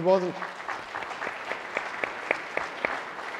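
Audience applause at a formal annual dinner keynote, a steady wash of clapping from a crowd that carries on for several seconds.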